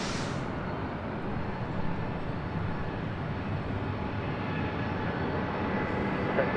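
An airplane at LAX airport gives off a steady, close, broadband jet-engine roar that holds at an even level throughout.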